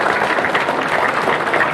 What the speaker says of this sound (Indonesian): Boleh berikan tepuk tangan sekali lagi yang meriah.